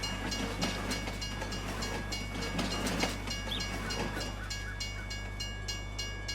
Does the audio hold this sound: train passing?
yes